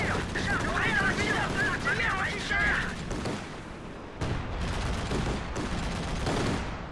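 Artillery bombardment and gunfire in the Company of Heroes 2 strategy game, a dense continuous roar of explosions and shots with sharp heavy blasts near the end, under game voice lines and talk.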